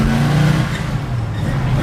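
A 1969 Dodge Dart GTS engine revs loudly and close by, a deep throaty rumble with a raspy note from a newer exhaust that rises and holds steady.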